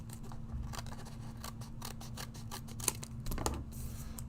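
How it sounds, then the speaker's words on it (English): Scissors cutting through craft material in a series of quick crisp snips, close and moderately loud over a steady low background hum. "And then you're going to take your scissors. And you will just cut straight down."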